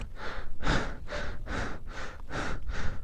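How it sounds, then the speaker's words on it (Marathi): Heavy panting of a man worn out from pushing a failed motorbike uphill toward Umling La pass, about seven deep, regular breaths with rasping inhales and exhales, close to the mic. "दम लागला मला"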